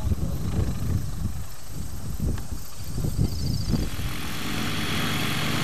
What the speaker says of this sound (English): Father Richard Izard coming into land in Tango Zulu Zulu